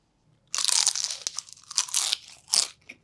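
Biting into crunchy fried siomai rice, a series of loud, close crackling crunches over about two and a half seconds after a brief silence.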